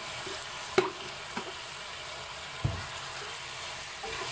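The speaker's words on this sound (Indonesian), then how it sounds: "Aduk lagi." Chicken cooking in soy sauce in a pan gives off a steady low sizzle, broken by a few brief clacks as a utensil stirs it.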